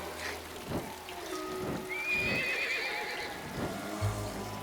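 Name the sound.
rain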